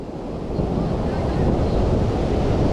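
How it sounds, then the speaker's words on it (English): Ocean surf on an Oregon beach roars steadily and loudly, a dense rushing wash of breaking waves mixed with wind buffeting the microphone and no clear talking. "wave action here looks pretty good"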